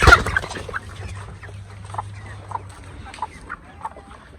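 Brown chicken on a farm clucking in short, scattered bursts at close range, a loud flutter at the start then repeated soft clucks over a low background hum.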